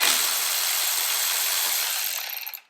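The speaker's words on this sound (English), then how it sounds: "After you've removed that plug, we're going to remove this bolt right here." A ratchet spinning quickly as it removes a bolt from a Jeep transmission, a continuous close clicking whir that runs for a couple of seconds and then stops.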